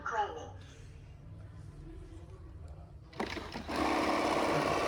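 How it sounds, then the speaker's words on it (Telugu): ECOVACS Deebot robot vacuum cleaner powering on indoors, a faint chime and quiet hum first, then a sudden loud steady whir of the motor starting in the last two seconds. "ఇప్పుడు స్టార్ట్ చేస్తాం మిషన్"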